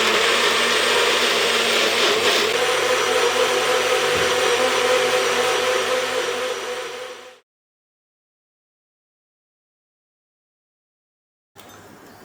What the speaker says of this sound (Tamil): அதுக்கப்புறம் சட்னி கையோட அரைச்சிட்டேன்.